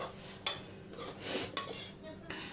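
Egg rice is stirred in a pan with a metal spoon, giving a few soft scraping sweeps punctuated by several light clinks against the pan, close and fairly quiet.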